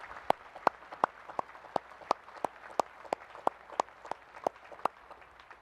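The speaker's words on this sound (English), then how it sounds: "How about a round of applause for all those folks?" Clapping at a Naval Academy graduation ceremony comes through as sparse, sharp claps at a steady, even beat, about a dozen in a row and moderately close, rather than a thick crowd roar.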